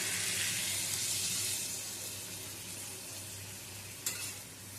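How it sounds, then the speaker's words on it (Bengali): Yardlong beans and potatoes frying in a pan give a dense, steady sizzle that slowly eases, then a brief splash near the end as water goes in. "বরবটি আলু ভালো করে কষিয়ে নেওয়ার পরে দিয়ে দেবো এর মধ্যে জল"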